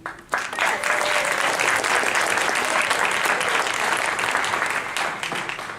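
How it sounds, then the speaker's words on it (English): A full room applauds a newly employed member at a business meeting, with a sharp start and then dense, sustained clapping that eases slightly near the end. "So would you give Andrew a round of applause because he is newly employed."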